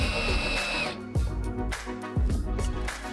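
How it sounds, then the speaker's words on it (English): Power drill driving self-drilling screws into a filter box, with short whirring bursts that rise and wind down in a couple of separate runs, close and fairly loud. "Secure them using the self-drilling screws."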